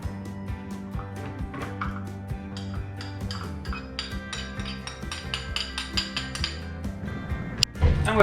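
Spoon stirring powdered stabilizers into mead in a container, a steady run of bright metallic clinks and taps against the vessel, close and rhythmic, ending with a few louder knocks.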